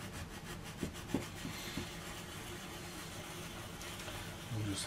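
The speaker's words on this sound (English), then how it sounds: "So just switch to the medium side here now to do the final sanding." A sanding pad rubbed over a seam on ceramic greenware, soft, faint back-and-forth scraping strokes close by, with a few louder scuffs and light handling knocks.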